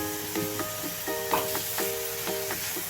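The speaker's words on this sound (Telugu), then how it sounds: "ఇప్పుడు ఉల్లిపాయలు వేసేసుకుందాం. ఒకసారి ఇలా వేసి బీరకాయ ఇలా తిప్పేయండి." Ridge gourd and onions sauté in a hot pan with steady sizzling, broken by several clacking spatula stirs and scrapes at close range; nobody speaks.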